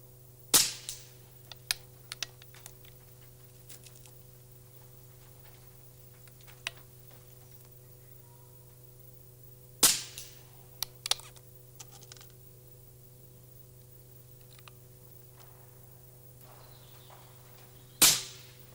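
Airgun shots fired by people on a neighboring range at an outdoor shooting ground, heard as sharp cracks spaced several seconds apart with a few smaller ticks between them, over a steady low hum.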